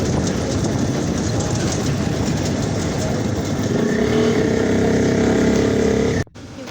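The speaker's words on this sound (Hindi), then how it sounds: "ट्रेन जा रही है ना" A train runs at speed past a close listener with a steady loud roar and rattling rumble, ending in an abrupt cut.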